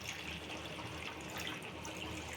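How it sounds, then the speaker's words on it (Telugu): Water pours steadily and softly into a pot of boti curry, a continuous, even rush of liquid with no break and no voices. "ఇప్పుడు వాటర్ పోసుకుందాం"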